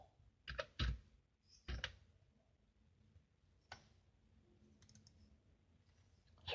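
Keys clack on a computer keyboard as a PLC instruction is typed, a few quiet scattered taps and short bursts, close up, in a hushed room without talk.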